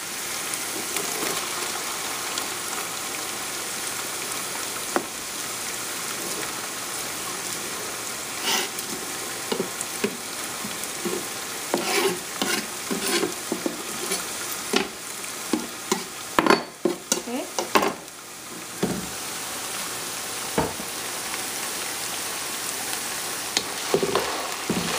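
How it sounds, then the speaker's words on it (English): Onions fry in a pan with ginger and garlic while being stirred, a steady sizzle punctuated by irregular scraping and clattering from the utensil against the pan. "just gonna fry the onions and"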